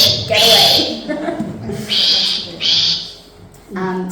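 A shrike giving a harsh alarm call outdoors on an alvar: several loud, raspy, scolding bursts repeated in quick succession, with a voice and other sounds mixed in underneath.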